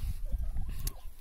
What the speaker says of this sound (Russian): постоянно бегают, орут индюки